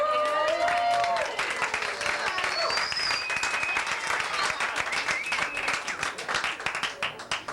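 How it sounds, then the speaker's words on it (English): An audience claps for a nine-year-old girl performer at a Toastmasters party held in a home, steady dense applause with a few voices rising over it at the start, then gradually thinning. "So everybody give her a round of applause for Anna."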